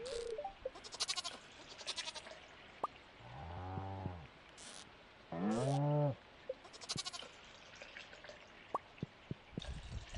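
Goats bleat in two distinct calls in the video game Stardew Valley, amid scattered clicks and drips, fairly quiet, with short bursts of other game sounds between them.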